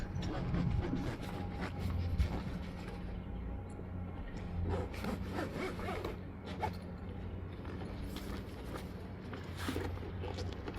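A Duo X awning bag is zipped shut, a long run of scratchy, ratcheting zipper pulls in several strokes with brief pauses and canvas handling, close by, steady and fairly quiet.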